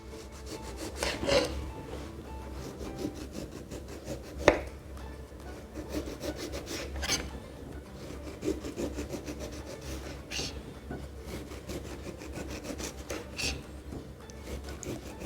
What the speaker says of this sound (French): On les pèle à vif, à l'aide du couteau à dents.